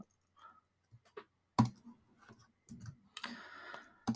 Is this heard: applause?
no